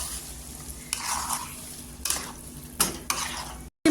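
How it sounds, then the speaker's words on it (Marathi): Chicken stir-fried in a ground masala paste for mintha-style gravy, with steady pan sizzle and repeated bursts of spatula scraping and stirring close up, no talking. "इथे वाटण टाकल्यानंतर आहे ना तरी पण 2 मिनिटं छान अशी परतून घ्यायची चिकन।"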